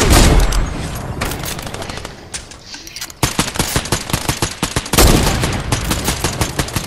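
Rapid bursts of automatic gunfire and single shots in the Fortnite video game, loud and close, with dense volleys that pause briefly and resume with sharp repeated cracks.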